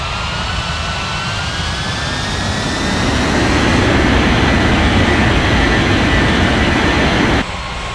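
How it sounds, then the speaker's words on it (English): A video-game airliner roars down runway 35 right on its takeoff roll, a loud continuous jet engine whine with rising tones that swells louder midway and holds steady before cutting off abruptly near the end. "Blue Sky 5703, cleared for takeoff runway 35 right."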